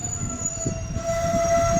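A Bhavnagar–Veraval passenger train rolls along with a steady low rumble and rattle, heard from inside the carriage, while a thin high tone holds throughout.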